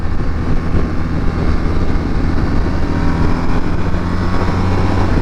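A 2021 BMW R1250RT motorcycle engine drones loud and steady while riding, heard from the rider's position with strong wind noise and gear changes made through the clutch, with no talking.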